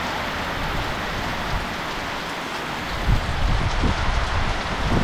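Steady rain falls over a mountain village, a dense, even hiss of drops on surfaces that swells slightly heavier in the second half, with no voices.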